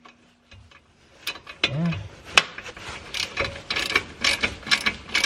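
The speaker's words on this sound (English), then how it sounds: "switch to my little ratchet right here" A small hand ratchet turns a bolt during an APG big brake kit install on a 2016 Subaru WRX, with close, rapid bursts of clicking after a quiet start and a brief spoken word.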